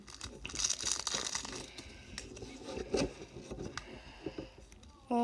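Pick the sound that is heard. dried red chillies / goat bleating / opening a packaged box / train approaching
opening a packaged box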